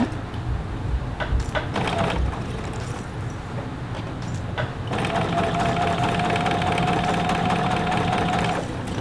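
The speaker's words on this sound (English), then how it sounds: "I'm going to begin sewing from that point with my standard 1/4-inch seam." Sewing machine stitching binding onto a quilt with a quarter-inch seam, a close rhythmic motor whir with a few short bursts at first, then a sustained steady run of stitching to near the end.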